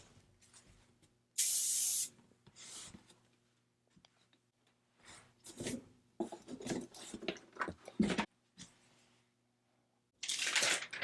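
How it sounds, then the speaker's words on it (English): Three separate bursts of aerosol spray, the first and last about a second long, with soft handling rustles and quiet movement in between. "I'm going to put a little bit of this spray on the other half of my design"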